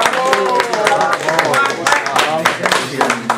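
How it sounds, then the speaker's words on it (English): Sustained applause from an audience at a talk, steady dense clapping with voices mixed in throughout. "let's have a warm round of applause for our speaker"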